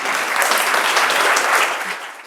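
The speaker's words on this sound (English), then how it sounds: "please join me in giving a very warm round of applause for Melissa Terras" A lecture audience applauds warmly as Professor Melissa Terras is welcomed back to UCL for a digital humanities talk: steady, dense clapping from a full room that holds for about two seconds, then begins to thin out.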